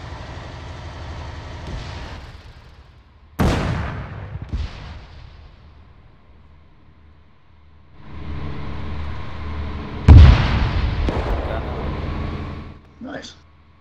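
Tank cannon and artillery fire in the video game ARMA 3, set in a 1944 tank battle: two sharp loud blasts with trailing rumble amid engine drone, separated by quieter stretches, with people talking over it.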